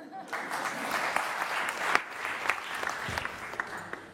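An audience at a French conference event applauds a presenter, producing a moderate, continuous patter of many hands with a few sharper individual claps standing out, heard from a slight distance.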